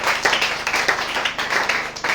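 A church congregation claps along during a prayer service, producing a steady rhythmic beat of many hands, fairly loud and close throughout.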